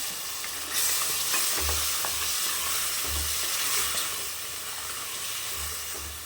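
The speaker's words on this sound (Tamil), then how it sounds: "எடுத்து வச்சுருக்கிற மட்டனை சேர்த்துக்கலாம்" Mutton stir-fried in a pan for varuval, a constant hissing sizzle with scraping stirs and low thuds repeating every second or so, close and fairly loud.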